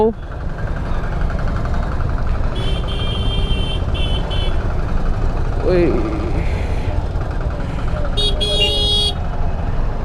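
Heavy city traffic heard from a Hero Xpulse 200T motorcycle near Sevoke More, engines rumbling steadily close by while several car horns toot in short beeps and longer blasts, some near and loud, others farther off.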